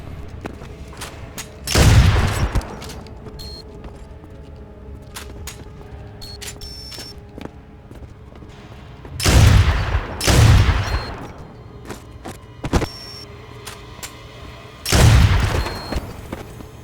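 Gunfire in the game Enter the Matrix, a power plant level: loud bursts of rapid automatic fire in four distinct volleys, each a few seconds long, separated by quieter stretches with scattered single shots and faint background hum.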